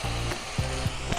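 Capsicum and other vegetables sizzle in a pan as soy sauce goes in while making chicken fried rice, a steady close frying hiss broken by a few louder bursts, with no voices.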